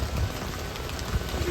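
Steady rain falls hard, a dense hiss of drops spattering on surfaces with no pauses and no speech.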